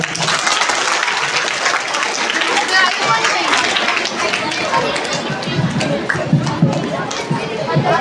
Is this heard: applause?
yes